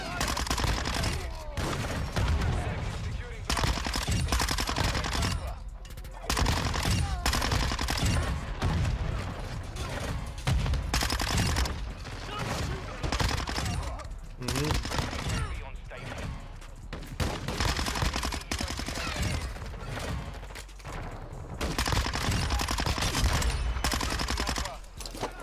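Gunfire in the Modern Warfare 2 video game rolls almost nonstop as dense bursts and rapid shots, loud and close, with brief lulls between volleys.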